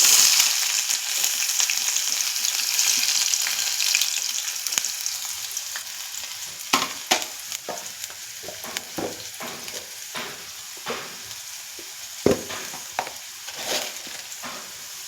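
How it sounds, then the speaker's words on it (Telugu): Onion and green chili frying in hot oil, a steady bright sizzle that starts loud and then eases, with scattered stirring clicks and scrapes through the second half. "ఆయిల్ వేడైందండి. ఇప్పుడు ఉల్లిపాయ పచ్చిమిర్చి వేస్తున్నాను."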